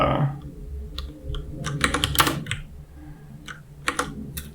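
Someone types on a new computer keyboard up close, with uneven bursts of sharp key clicks and clatters separated by short pauses over a low background hum.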